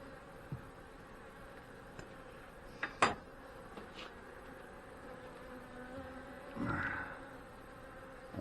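Honey bees buzzing around an open hive during an inspection for swarm cells: a steady low drone of many bees, with a few sharper clicks and one louder buzz passing close.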